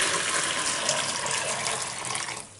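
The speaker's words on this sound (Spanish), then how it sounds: "Voy a ponerle agua caliente." Hot water pours steadily from a tap into a basin for soaking white laundry with stain-removing soap paste, a bright continuous splashing rush that fades out at the end.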